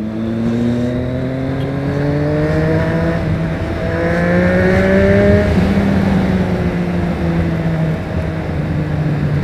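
A car accelerating hard, its engine note climbing in repeated rising sweeps as it shifts through gears, loud and close throughout with no voices.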